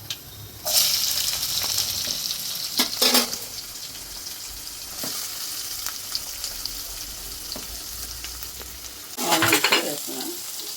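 Onions sizzle in hot oil with bursts of louder frying and occasional stirring clinks, close up and steady, with no talking.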